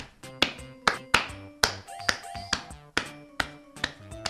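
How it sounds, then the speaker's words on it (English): Hands clap in a classroom demonstration of sound, sharp single claps spaced at a fairly even rhythm, each ringing briefly with a tonal resonance in a quiet room. "When you clap your hands,"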